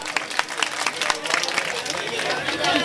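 A mushaira audience in Kamptee gives steady, dense applause for Adil Bhai, with rapid overlapping claps and crowd babble sustained throughout.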